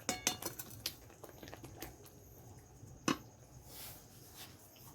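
A pot of tomato chutney is lifted off the stove with faint metallic clinks and scrapes of cookware, a few sharp taps and one louder clank among quiet kitchen rattling.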